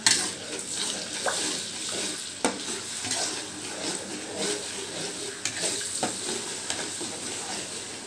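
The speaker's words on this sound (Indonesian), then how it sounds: "ini kita tumis sebentar saja" Blended spice paste for Soto Madura sizzles and fries in a pan while being stirred, a steady bright crackling hiss close up with occasional scraping clicks of the utensil, no talking.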